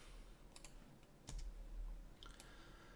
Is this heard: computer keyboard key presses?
yes